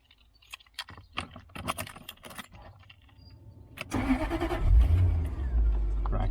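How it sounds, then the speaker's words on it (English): A car engine cranks and starts after a stretch of clicks and jangling handling noises, then settles into a loud, steady idle close by. "Now I'm going to put the engine on."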